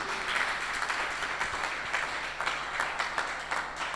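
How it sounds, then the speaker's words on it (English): Crowd applause at a Rotaract club gathering in western Uganda, steady dense hand clapping from an indoor audience lasting the whole stretch without pause, fairly loud and close. "that's a hand clap for a barrio chairperson in my village."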